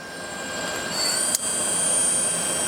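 A Citizen M-32V 10-axis CNC Swiss-type lathe runs its main spindle with a steady mechanical whine and high tones that rise as it speeds up, with one brief click near the middle.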